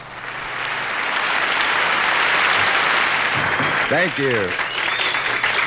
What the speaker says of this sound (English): The crowd clapped and clapped and clapped.